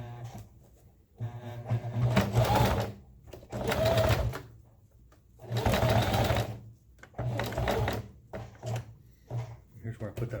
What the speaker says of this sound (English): I'm going to start sewing around it